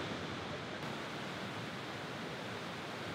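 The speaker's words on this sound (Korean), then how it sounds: "I like the sound of the water" Roadside waterfall in Norway near Sognefjord, a steady broadband rush of falling water heard close and continuous with no voices.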